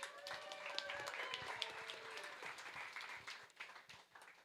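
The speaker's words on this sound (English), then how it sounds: "Give them a round of applause." Audience applause at a Nerd Nite talk in a bar venue, a steady spread of clapping from a crowd with whoops and voices layered over it, tapering slightly toward the end.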